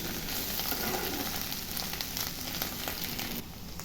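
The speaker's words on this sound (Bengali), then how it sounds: "এইভাবে নেড়ে চেড়ে আমি ভেজে নেব।" Mushrooms and potatoes frying in a pan while being stirred, a dense continuous sizzle with soft scraping textures that dips slightly near the end.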